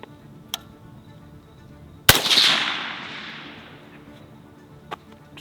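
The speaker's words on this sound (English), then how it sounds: "I haven't actually shot it on 6-arc yet, but this is my Noveske 6-arc, so let's see how it sounds" A Noveske 6 ARC rifle fired through a 6mm suppressor gives off a single loud, sharp crack followed by a fading hiss and echo. Faint clicks come before and after the shot.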